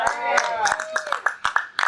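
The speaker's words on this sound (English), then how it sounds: "Don't applaud him." A small audience at a classic gaming expo claps in short, irregular bursts under excited voices and cheering, the sharp hand claps sounding close.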